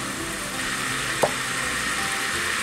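Butter sizzling in a hot pot after browning beef for stew, a steady, bright frying hiss throughout with one brief knock near the middle.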